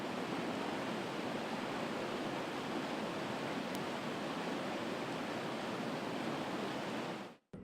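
A river rushing steadily past a webcam microphone, a dense, continuous broadband wash of flowing water with no breaks, cutting off abruptly near the end.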